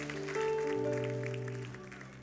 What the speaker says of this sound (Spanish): aplaude fuerte los que tienen palabra de aliento y bendición